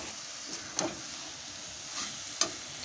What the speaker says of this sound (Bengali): মোচাটা দিয়ে এবার বেশ কিছুক্ষণ কষাবো।